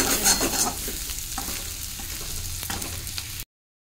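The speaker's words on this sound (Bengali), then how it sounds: "এই যে ভাজা হয়ে গেছে, এবার আমি ভাজাটা তুলে নেব।" Food sizzles and crackles in a hot pan while a utensil stirs and scrapes through it, steady and close, with no voices, before cutting off abruptly.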